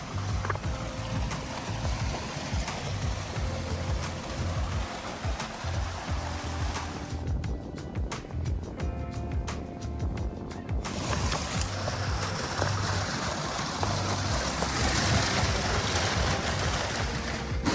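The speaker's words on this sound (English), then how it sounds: "we are about to fill up our water bottle from the glacial waterfall." Rushing water roars steadily and broadband, with a brief quieter stretch in the middle, like a nearby glacial waterfall pouring continuously at Matanuska Glacier near Anchorage.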